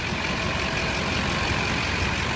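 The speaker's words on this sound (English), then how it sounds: "Again, let it idle, do not rev it up." A Duramax LB7 diesel truck engine idles steadily with no revving, a continuous, even rumble and hiss at moderate distance, with no talking.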